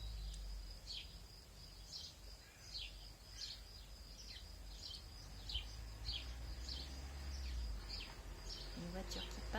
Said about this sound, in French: je ne sais pas si vous entendez, mais il y a des cigales